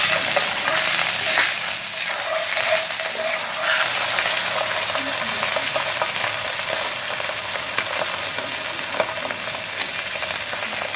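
An Australian striploin steak sears in a hot frying pan, giving a loud, steady, close sizzle with faint pops and crackles throughout.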